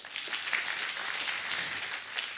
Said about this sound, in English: Hands of clap for them.